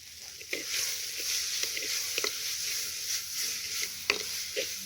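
Perandai (adamant creeper) frying in oil with turmeric gives a steady soft sizzle, broken by irregular scraping stir strokes, close and moderately quiet, with no voices.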